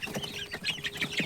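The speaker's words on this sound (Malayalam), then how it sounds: "അപ്പോൾ നമ്മൾ കോഴികളൊക്കെ അവിടെ ഉണ്ട്" Free-range country chickens clucking and peeping nearby, a series of short, lively calls in quick irregular succession, some louder than others, with no speech.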